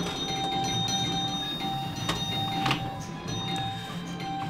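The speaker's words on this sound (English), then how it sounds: "Obviously we're playing the chimes version." A Stern Bond 60th pinball machine on its chime sound setting rings out bright chime tones over the steady hum and clatter of play, a couple of sharper hits standing out.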